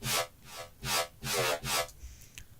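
A dubstep bass synth patch in Serum with flanger filter and delay pulses in four wide, sweeping swells, each whooshing and rasping like a rub, followed by fainter flickering tails.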